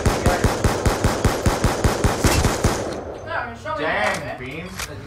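Rapid video-game gunfire rattles in a fast, evenly spaced burst of about a dozen loud shots in a Standoff kill cam, then gives way to softer game effects and chatter.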